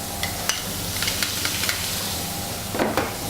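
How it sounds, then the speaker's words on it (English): Onions and garlic frying in hot oil in a pan make a steady close sizzle, broken by a few light scrapes and stirring clicks, with a louder clatter near the end. "Now in the same oil, I just cook the onions and garlic."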